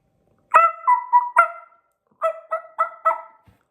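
A short series of raspy, yelping turkey hen calls from a wingbone-style call, close and clear, in two quick bursts of four notes separated by a pause.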